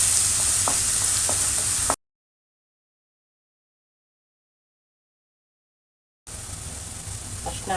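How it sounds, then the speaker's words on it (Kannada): A vegetarian palak keema mixture fries over a low flame in a pan, giving off a steady, close sizzle that stops completely for a few seconds of silence before resuming. "ಇದು ಸಣ್ಣ ಉರಿಲೇ ಚೆನ್ನಾಗಿ ಹುರ್ಕೋಬೇಕು."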